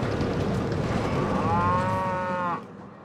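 In the Planet Coaster video game, a cow at the Cosmic Cow shop gives one long, loud, drawn-out moo that falls in pitch, then cuts off and leaves a quiet background.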